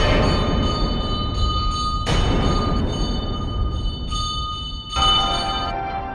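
A doorbell rings with sustained, steady tones over dense, loud background noise, with sharp bursts near the start and end.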